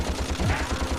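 Rapid blaster gunfire from the Ratchet and Clank video game on Planet Rilgar, a steady burst of repeated shots filling the whole second with a dense, continuous rhythm.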